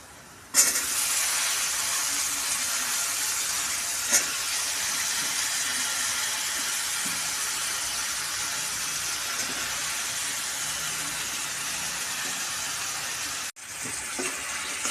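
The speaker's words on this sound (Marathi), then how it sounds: "आता आपण वांगे बटाटे टाकून घेऊ।" Eggplant and potato pieces fry in a pan with dried fish and turmeric, hitting the oil with a sudden loud onset, then giving a steady close hiss and sizzle with one brief clatter, before cutting off near the end and resuming.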